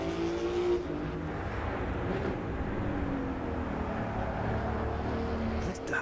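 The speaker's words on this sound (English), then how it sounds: "That tire scrubbing, man." Race car engine droning continuously with tires squealing and scrubbing in the game Assetto Corsa EVO, a steady loud mechanical roar with no one speaking.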